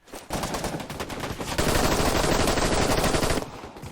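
Rapid automatic gunfire from players shooting in the video game Operation: Harsh Doorstop, a loud, dense burst of rounds running almost without a break before cutting off near the end.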